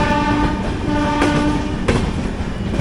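Mysuru–Hazrat Nizamuddin Swarna Jayanti Express hauled by a WAP-7 electric locomotive passing close by, a loud steady rolling roar with sustained horn-like tones and a couple of sharp rail clanks.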